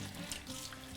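Tap water runs steadily into a sink while half a leek is rinsed clean of sand, a soft continuous hiss heard close and alone for about a second.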